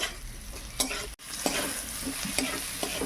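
Chunks of taro fried with spices in a pan and stirred hard, a dense steady sizzle with repeated scraping strokes close by, no voices.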